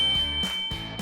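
A notification bell sound effect rings twice in quick succession, each strike a bright ding with a short sustained tone, clear and unaccompanied.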